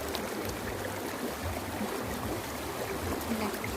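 A village stream flowing strongly, a dense, steady rushing and gurgling of water close by that stays even throughout with no voices.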